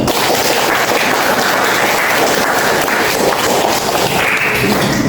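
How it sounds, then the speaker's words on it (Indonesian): A classroom of students applauds at the end of a lesson, producing loud, continuous, crowded clapping that holds steady for several seconds. "kita beri tepuk tangan untuk semangat kita hari ini."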